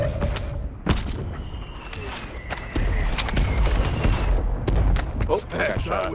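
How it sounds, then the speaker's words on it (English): Mortar strike explosions in the Call of Duty Warzone video game, with sharp nearby blasts and scattered gunshots over a dense, rumbling battlefield din that swells partway through. "Friendly mortar strike on the way."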